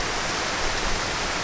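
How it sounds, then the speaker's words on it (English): Rushing waterfall in the mossy forests of the White Mountains, New Hampshire, giving a steady, broadband roar that fills the short stretch evenly and closely, with no pauses or voices. "kind of taking in the mossy beauty of the waterfall behind us"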